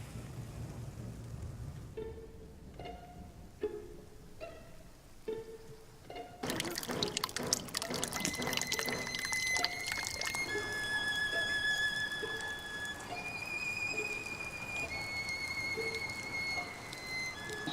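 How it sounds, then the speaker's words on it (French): Rain falls as a steady, soft broadband hiss that comes in partway through, with scattered tonal beeps and chirps heard over it. "Il pleut."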